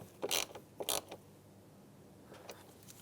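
A bolt being tightened on a Mazda CX-9 engine bay: several short, sharp ratcheting bursts close up, two quick pairs early and a softer pair near the end, separated by quiet.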